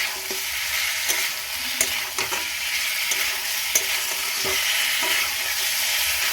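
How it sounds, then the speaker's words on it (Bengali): Pointed gourd sizzles in a pan over a low gas flame, a steady frying hiss broken by occasional stirring scrapes and taps, close and even throughout. "পাঁচ মিনিটের মতন নাড়িয়ে নেব গ্যাসের ফ্লেমটা লোতে রেখে"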